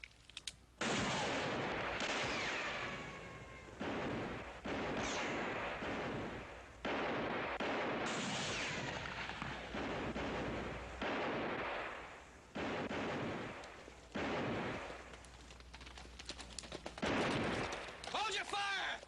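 Heavy gunfire in a western TV episode: loud, rapid overlapping volleys of shots come in repeated bursts with brief gaps, mixed with shouting voices.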